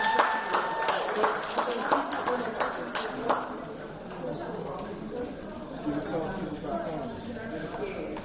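Audience at a Detroit diaspora gathering claps for a cultural performer, a dense spatter of many hands that rises loud at first and then thins to a steadier patter, with voices murmuring underneath.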